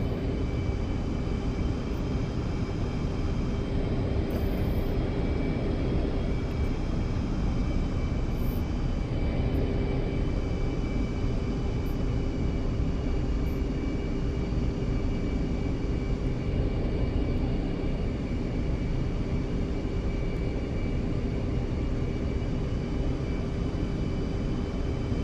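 Military jet taxiing toward the runway in the DCS flight simulator, a constant loud engine roar and whine with a steady tonal hum, unchanging throughout and with no talk.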